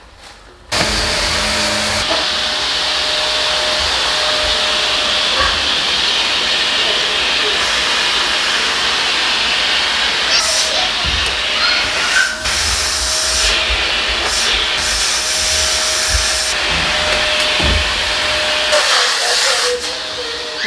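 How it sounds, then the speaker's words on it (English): A vacuum cleaner runs steadily and loudly indoors in a living room, a continuous whooshing drone that sits close by for the whole stretch with slight shifts as it moves over the mess. "It's about to get loud in here because Mike is about to vacuum up a mess"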